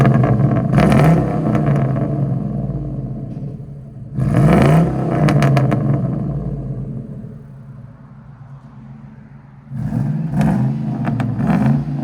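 A 1999 Ford F-150 with a 4.6L V8, Borla ProXS exhaust and no catalytic converters revs in three loud bursts, its deep rumbling exhaust swelling then settling to idle between them.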